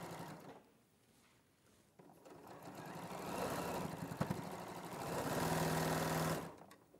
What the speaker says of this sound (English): We're just watching you sew now.